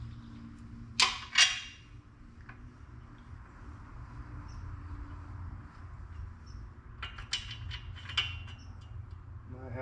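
A John Deere Z910A mower deck blade turned repeatedly by hand gives faint clicking, creaking metal ratchets in two short bursts over a quiet low hum.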